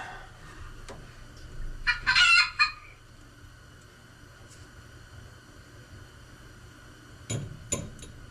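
A chicken clucks and crows near a workshop where a Charger is being repaired: a brief loud burst of crowing partway through, with scattered clucks and a few sharp knocks against a low steady background hum.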